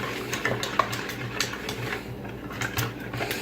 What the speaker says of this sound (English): So we're going to slowly take a little bit, whisk it in.